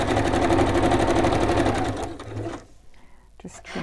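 Sewing machine stitching a seam across fabric, running in a steady rapid whir for about two seconds, then stopping, with faint handling noises afterward.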